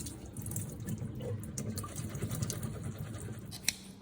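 Hot water poured into a bowl to soak glass noodles in a home kitchen, a steady soft splashing stream with faint trickling and one small clink near the end.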